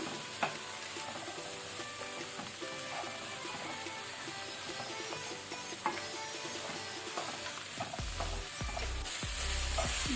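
500 grams of okra frying on a medium flame while being stirred, a faint steady sizzle with occasional spatula taps against the pan, alone and quiet.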